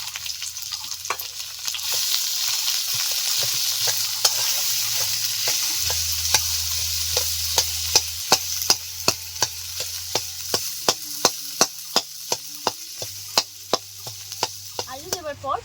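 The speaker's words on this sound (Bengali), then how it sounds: "পাঁচ মিনিট মতো নেড়ে চেড়ে নিয়েছি" Boiled potato pieces stirred and fried in a pan with salt and turmeric, a steady sizzle under repeated sharp scrapes and clicks of the spoon against the pan, growing more frequent toward the end, close and clear with no talk.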